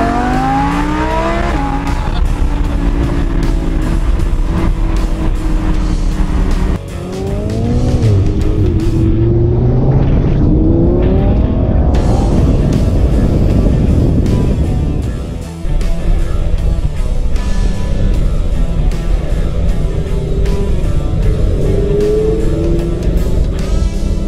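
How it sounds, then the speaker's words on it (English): A Lamborghini Huracan sports car roars and revs loudly, its engine pitch climbing repeatedly through hard acceleration and gear changes with a brief lift-off in the middle, close and continuous with no talk. "Alright, Lamborghini Huracan."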